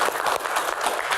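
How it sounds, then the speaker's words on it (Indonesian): Audience applause at a live comedy Q&A show, a short burst of dense clapping and crowd noise that stays steady and fairly loud throughout. "Tepuk tangan dong semangatnya."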